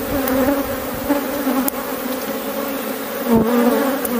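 A steady, dense buzzing of many honeybees shaken from a hive frame, loud and close, with a few brief knocks and a short swell of activity near the end.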